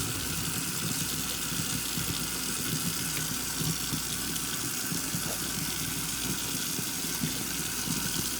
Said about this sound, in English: now we're just gonna squeeze all the moisture out